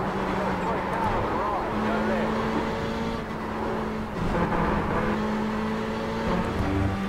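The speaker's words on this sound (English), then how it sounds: "You hear this cut in the engine" Ferrari 488 GTE in iRacing with its engine note droning steadily, briefly stuttering as traction control cuts in, loud and close throughout.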